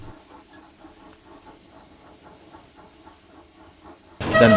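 Steam engines in a slow cavalcade puff along the railway, a steady rhythmic chuffing with a hiss beneath it, moderately faint and continuous, before a sudden loud burst of sound at the very end.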